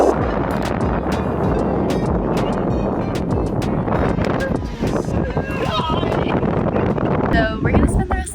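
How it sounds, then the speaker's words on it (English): Strong, steady wind at a beach in Ecuador roars and buffets the microphone throughout, with low rumbling gusts and a voice speaking briefly over it. "It has been a super windy day at the beach."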